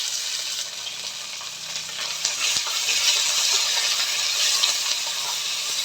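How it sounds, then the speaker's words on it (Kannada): Onions fry in a pan of hot oil with bay leaves and whole spices for mutton biryani. A loud, steady close sizzle carries the clip, broken by a few light clinks of stirring. "ಈರುಳ್ಳಿ ರೆಡ್ ಆಗೋ ತನಕ ಚೆನ್ನಾಗಿ ಫ್ರೈ ಮಾಡ್ಕೊಬೇಕು"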